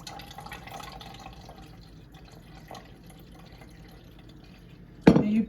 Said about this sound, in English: I'm going to come a little bit closer so it'll drip in here instead of on the counter